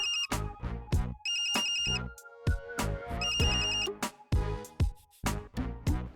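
A phone ringtone plays close and loud, a bright electronic melody of repeated tones in a steady pattern running for several seconds with no voices over it.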